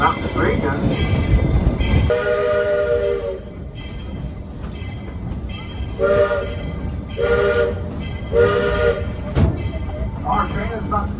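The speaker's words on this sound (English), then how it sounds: "Our train is about to cross over Clear Creek for the first of 4 times on our descent from Silver Plume." A narrow gauge Georgetown Loop Railroad train descends from Silver Plume toward a Clear Creek crossing in the Colorado mountains, its steady rumble and rattling wheels broken by several loud whistle blasts.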